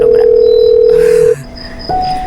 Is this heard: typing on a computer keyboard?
no